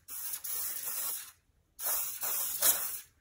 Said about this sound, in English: and I will spray it on here.